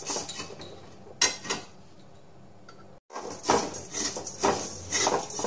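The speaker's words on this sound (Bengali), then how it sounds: "এবার এগুলোকে আমি ভাজবো যতক্ষণ না চিনিটা গলে যাচ্ছে।" Sugar is fried in a metal pan for fried tea: close clinks and scraping of a utensil against the pan, with a brief pause before the stirring clatter resumes more busily.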